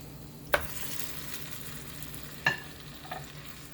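Lamb pieces go into a Sri Lankan style curry in a pan and are stirred, with a couple of sharp clanks of the utensil against the pan over a low, steady sizzle, no talking.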